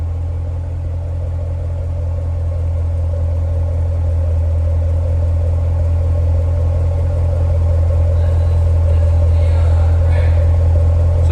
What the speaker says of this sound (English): It does have active exhaust on it, so we're gonna give you the different sounds.